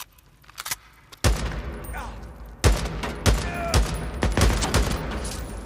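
Scattered gunfire from assault rifles in the video game Days Gone, several sharp loud bursts and single shots at irregular intervals, mixed with game ambience and some speech.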